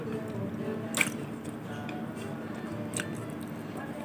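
Someone bites into a strawberry-sauce donut, with a soft, wet squish and a few faint chewing sounds close by over a steady low background hum.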